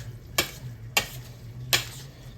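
A spoon stirs an egg into homemade chicken dressing in three quick, sharp scraping strokes against the pan, over a faint background hum.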